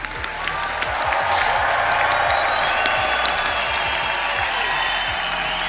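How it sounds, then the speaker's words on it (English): Loud, sustained applause from a large crowd at a graduation ceremony swells after a moment and continues evenly throughout, with faint voices mixed in. "Can we give a big hand of applause to all the graduates?"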